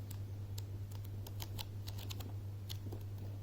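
A pack of craft paper sheets is flipped through quickly, giving a scattered run of soft, crisp flicks over a faint steady hum.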